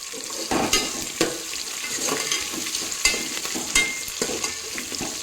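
Onions and green chillies fry in oil for biryani while being stirred, a steady loud sizzle broken by repeated scraping strokes of the spoon against the pan.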